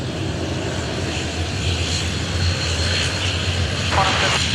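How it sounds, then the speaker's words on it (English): Low engine roar from a Finnair Airbus A330 bound for Bangkok at Sydney Airport, a steady rumble heard from a spotting position under faint background sounds. "So there's our Finnair aircraft, the Bangkok bound A330."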